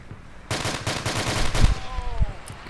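Gunfire in the military shooter game Arma: a rapid automatic burst erupts and rattles on for about two seconds, with heavy individual cracks and booms near the end.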